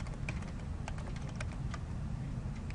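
Quick, fairly quiet keystrokes clatter on a computer keyboard in an irregular run of taps as a name is typed into an online tire replacement claim form, with no voices.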